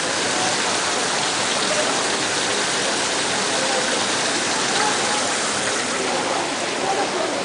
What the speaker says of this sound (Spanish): el agua que fluye.